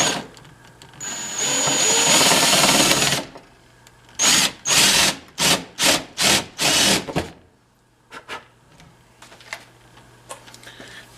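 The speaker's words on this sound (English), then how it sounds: "So we want to kind of drill it right here." A power drill bores a hole for a Jack Trap big bait release clip, one long continuous whir followed by a series of short, rhythmic bursts, then faint clicks and handling noise.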